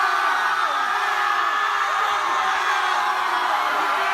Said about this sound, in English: It's where students meet up in the middle of campus during finals week and just scream.